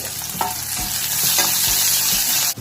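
Chopped onions and curry leaves sizzle steadily in a pan for a rava kozhukattai, with a few close spatula scrapes and stirs over the constant frying hiss.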